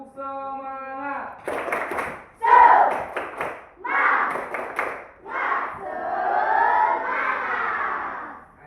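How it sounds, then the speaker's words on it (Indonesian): Schoolchildren in an Indonesian primary classroom repeat a rhythmic spirit chant with patterned clapping, a teacher's voice leading briefly at the start, then loud unison shouting and claps in short bursts closing with a long collective cry. "Oke, sekali lagi tepuk semangat."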